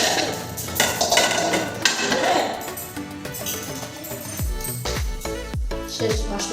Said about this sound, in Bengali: বাসন সব রেখে দিলাম